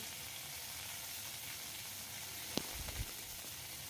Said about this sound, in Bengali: দিয়ে এটা একটু ভাজা ভাজা করতে হবে